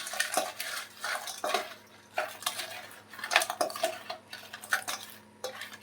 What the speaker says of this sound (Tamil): நம்ம லைட்டாக மொல்லமாக வந்து இதை கலந்து விட்டுக்கோங்க